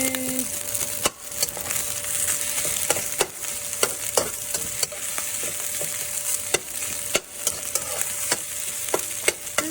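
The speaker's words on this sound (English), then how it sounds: "I'm putting my fish. I chopped up, and I want to make it a little crispy." Chopped leftover fish fries in a pan for fried rice, giving a steady bright sizzle broken by repeated sharp scraping clicks of a spatula stirring, close and without talk.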